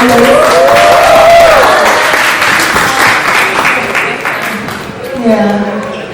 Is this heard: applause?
yes